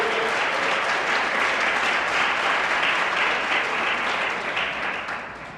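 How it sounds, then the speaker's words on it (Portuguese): Sustained applause from a large church congregation, a thick wash of clapping that holds steady and then begins to fade toward the end. "Uma salva de palmas ao Senhor."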